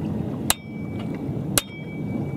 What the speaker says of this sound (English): Then take that punch and then gently, because you don't want to break off these ears,